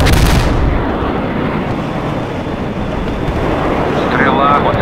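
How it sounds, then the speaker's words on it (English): An artillery barrage in the video game World in Conflict opens with a sharp blast, then a dense, continuous roar of rumbling fire. A brief electronic tone sounds near the end. "Launching a barrage."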